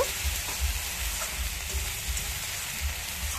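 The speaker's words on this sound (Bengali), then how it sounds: "মশলাটা এখন কষানো হয়ে গেছে, অনেক তেল ছেড়ে গেছে" Spice paste for a rohu fish curry sizzles steadily in plenty of oil, a continuous fine hiss with a soft low bubbling underneath and no voices.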